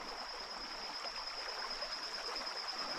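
Rapids on a small river where fishing takes place, a steady, dense rush of flowing water that stays constant and close throughout with no voices.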